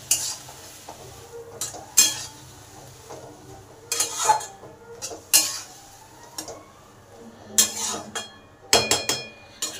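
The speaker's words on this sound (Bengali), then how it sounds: "এবার সমস্ত কিছু ভালো করে কষে নেব ঝিঙ্গের সাথে।" Ridge gourd stirred and sautéed with spices such as chili and cumin powder in a pan: sharp, repeated scraping strokes of a utensil against metal come at irregular intervals over a faint, steady sizzle.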